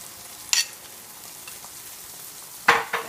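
A veggie omelet egg mixture fries in a pan with a low steady sizzle, broken by two sharper bursts of stirring or scraping.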